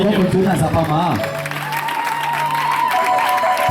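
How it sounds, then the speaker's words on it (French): A congregation at a Pentecostal church gathering claps for the Lord, a loud, busy patter of many hands mixed with someone speaking and a sustained musical tone underneath. "Applaudissons"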